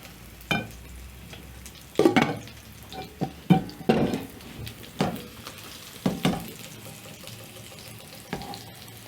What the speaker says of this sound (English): I'm going to add my potatoes in a pan with cooking oil